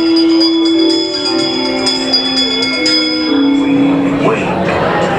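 Bells chime inside Disneyland's Haunted Mansion, sustained ringing tones under an eerie spoken narration, with a ghostly voice continuing throughout.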